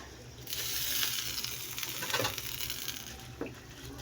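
Pechay leaves drop into a pot of simmering chicken tinola, setting off a soft sizzle and bubbling patter that swells for a few seconds and then eases, with a light clink near the end.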